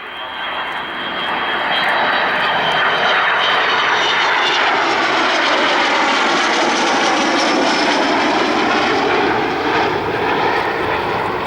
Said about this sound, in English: So here she comes from the right